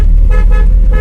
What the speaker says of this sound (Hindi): ये वाली हॉर्न है वो